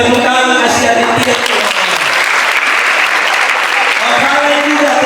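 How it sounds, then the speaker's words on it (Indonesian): Church congregation clapping during a sermon in Sabu Raijua, a broad burst of applause that swells in the middle, with a voice talking over its start and end. "tepuk tangan kasih Aditya."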